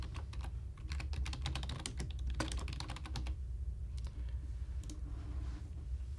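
Computer keyboard typing, a steady run of quick key clicks packed close together over a low background hum, fading to sparser taps toward the end while a transition gets renamed in content management software.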